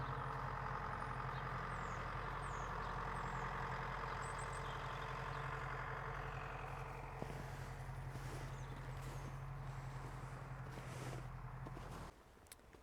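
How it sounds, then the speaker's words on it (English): A neighbour's farm tractor idles with a steady low diesel rumble and drone on a frosty winter smallholding, holding constant for about twelve seconds before cutting off abruptly near the end. "There's our friendly neighbour Brendan with his tractor."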